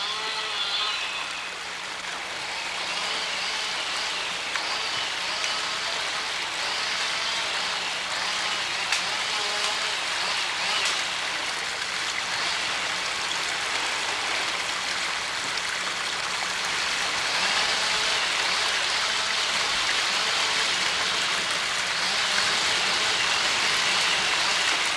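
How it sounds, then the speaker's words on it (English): Heavy rain falling steadily in a hillside logging area at King's Point, a dense continuous hiss of water with no voices, holding an even, fairly quiet level throughout. "Pretty wet up here today. Raining pretty hard."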